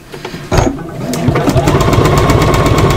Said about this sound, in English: I'm now stitching through all of the layers of the middle petal